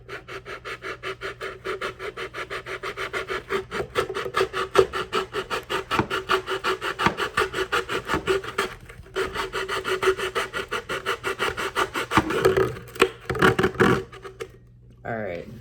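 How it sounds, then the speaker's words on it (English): Someone sands a bumpy model rocket part from a two-stage model rocket by hand, making a rapid, rhythmic rasping of back-and-forth strokes that is close and loud, with a short pause partway through before the strokes resume. "Just gonna have to sand this down because it's kind of bumpy"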